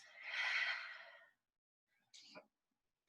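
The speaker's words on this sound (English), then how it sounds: "Inhale through the nose. And exhale through the mouth." One long breath is pushed out through the mouth in a soft, close sigh during a yoga power flow class. A shorter breathy sound follows after a brief silence.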